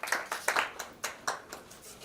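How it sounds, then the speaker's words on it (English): A few people clap for a generous donation, about eight sparse, uneven hand claps over two seconds, fairly faint and close, with no talk. "big round of applause for their generous donation"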